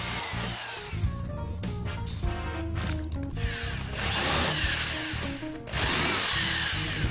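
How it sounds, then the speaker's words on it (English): A power drill bores and countersinks holes in cut wooden frame material, with a loud, continuous whirring and grinding that shifts in pitch through several bursts, close up and with no one talking. "we drill and countersink ready for assembly."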